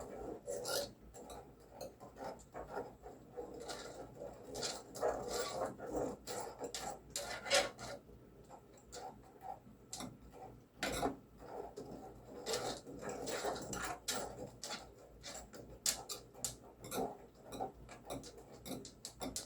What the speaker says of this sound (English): And from here, we start stirring. And you have to stir pretty much constantly.